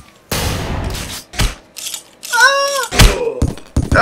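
Mechanical clicks, clacks and a ratcheting slide of a weapon being reloaded in a video game, a quick sequence of close, sharp metallic actions with a short whining tone in the middle.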